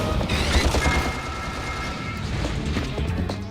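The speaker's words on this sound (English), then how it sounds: "We literally blew it up with basically a pistol." Pistol fire blows up a tank in a Ratchet and Clank video game, a rapid burst of shots with booming impacts that fades into a lower rumble.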